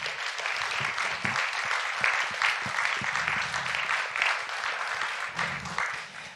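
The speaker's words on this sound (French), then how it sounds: "Est-ce qu'on ne peut pas l'applaudir ?" A congregation applauds during a Sunday church service, giving a dense, even round of clapping that carries on without pause at moderate distance.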